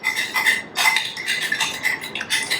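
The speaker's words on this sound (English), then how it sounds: "We're just going to stir this up" Dill relish is stirred into a smash burger sauce in a bowl, producing close, rhythmic scraping and swishing strokes of a utensil, fairly loud and continuous with no speech.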